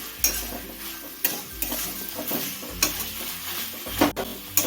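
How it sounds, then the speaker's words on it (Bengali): A spoon stirs a cutlet mixture of banana stem and crushed nuts in a pan, making repeated scraping strokes with a soft sizzle underneath and an occasional sharp clink against the metal. "ভালো করে নেড়ে নেড়ে একটা মন্ড মতন বানিয়ে নেব"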